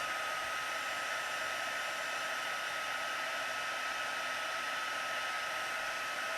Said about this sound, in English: I have this on the highest setting for embossing. There's two settings on the heat tool.